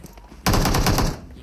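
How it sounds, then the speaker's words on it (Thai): A loud burst of automatic gunfire in PUBG Mobile erupts suddenly and rattles for most of a second before cutting off, with quiet background sound before it. "ยิงเหรอ"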